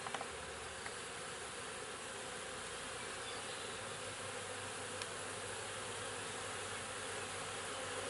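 Honey bees hum in a continuous, dense drone at an open hive during queen rearing, steady and close without any break.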